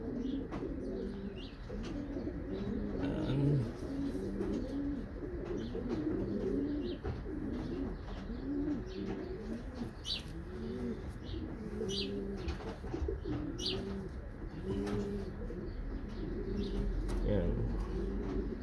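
Racing pigeon hen, a small third-place bird, cooing in repeated soft low coos that run steadily throughout, close by, with faint chirps from other birds and some background noise.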